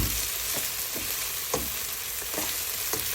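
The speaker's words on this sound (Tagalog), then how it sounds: "Halo mo kasi para hindi masunog." Food sizzles and fries steadily in a pan while a utensil stirs it in a few scraping strokes, the stirring clear over the constant crackle.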